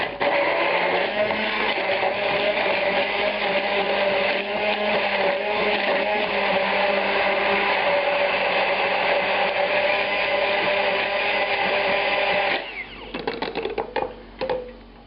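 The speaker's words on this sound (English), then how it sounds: "the mushrooms and the garlic are going to go into this blender cup" A blender cup holding mushrooms, garlic and wine whirs loudly and steadily for about twelve seconds, then cuts off, followed by rattling and handling sounds.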